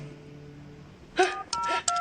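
Several short electronic keypad tones in quick succession, like buttons pressed on a phone, faint hum underneath.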